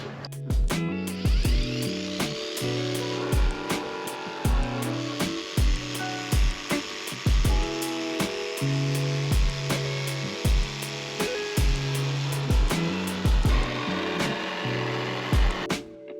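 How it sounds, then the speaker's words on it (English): A jigsaw buzzes in rapid bursts with sharp clattering strikes, cutting a Ford Transit van's metal panel up close and loud, stopping near the end. "Then Nico carefully cut around the edges with the jigsaw."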